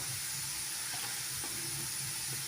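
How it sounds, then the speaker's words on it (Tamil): Sliced onions sauté in a pan for chicken gravy, giving a soft, steady hiss with faint stirring sounds, quiet and close. "இன்னும் கொஞ்சம் கலர் மாறுற வரைக்கும் வதக்கி விட்டுக்கலாம்"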